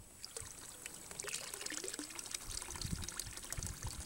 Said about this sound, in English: The water is back on here.